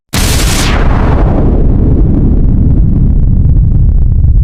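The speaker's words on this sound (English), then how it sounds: "Then a big explosion occurred" A huge explosion bursts suddenly at full loudness, then its roar and rumble roll on and slowly thin out over several seconds, with no voices.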